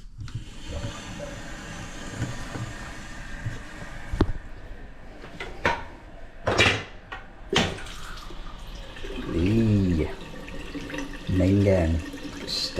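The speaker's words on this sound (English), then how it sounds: "We'll open up the water main." Water from an opened water main runs steadily with a gushing hiss, punctuated by clanks and knocks, while someone speaks briefly partway through.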